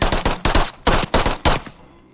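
Rapid bursts of gunfire from shooting zombies in the Zombielator video game, about six loud, close shots in quick irregular succession before trailing off into quiet.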